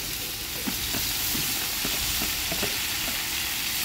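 Steady, loud sizzling of blended shallots, garlic and dried chili paste frying in a hot pot, with occasional stirring scrapes and pops over the constant hiss.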